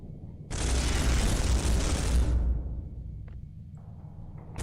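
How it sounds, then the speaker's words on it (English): A heavy boomer-style gun blast rolls out in Space Hulk, a loud sustained roar lasting about two seconds before decaying, followed by faint scattered clicks. "Meanwhile, you continue firing over here. You got 5 shots."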